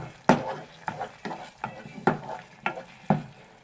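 Spicy pasta arrabbiata is stirred in a pan, a spoon scraping and clinking against the pan in about six regular strokes over a soft sizzle, close and clear, with no talking.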